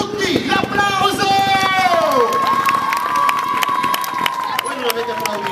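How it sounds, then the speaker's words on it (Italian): A crowd at a motorcycle jump show over people lying on the ground cheers and shouts loudly and continuously, with a high rising whoop and excited voices throughout. "prima del salto, quarto, da tutti, l'applauso!"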